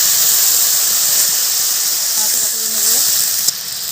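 Water poured into a hot pan while cooking figs sets off a loud, steady hiss and sizzle with a thin squealing edge, ending with a sharp click near the end.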